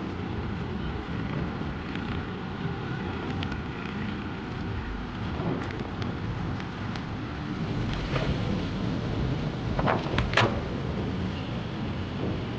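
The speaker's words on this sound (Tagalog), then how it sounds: "Lakas ang hangin." Strong wind buffets the open air on a riverside viewing deck along the Pasig River esplanade, a loud continuous rumbling roar with gusts and a few sharp bumps toward the end.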